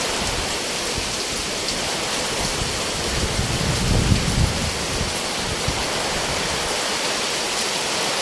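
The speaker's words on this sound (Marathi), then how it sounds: "आणि तितकाच पाऊस आहे जोरात" Heavy rain pours down steadily during a storm with strong wind, a dense, continuous roar, with a low rumble swelling briefly near the middle.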